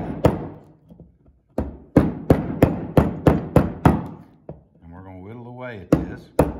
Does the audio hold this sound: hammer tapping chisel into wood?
yes